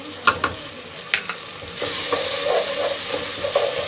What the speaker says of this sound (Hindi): अब मसाले को हम 2 से 3 मिनट भूनेंगे।